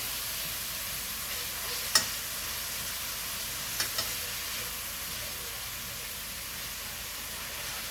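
Onions and celery sauté in a pan for braised beef, giving a steady broadband sizzle throughout, with a couple of sharp utensil taps or clicks near the start and middle; no talking.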